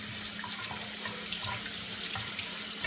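Tap water runs steadily into a sink while hands are washed, a continuous close splashing stream with no talk.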